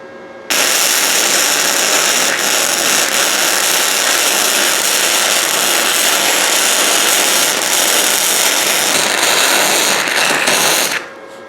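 A budget flux core welder running a continuous weld joining two metal pieces, a steady loud crackling buzz that holds for about eleven seconds before cutting off, with no talk.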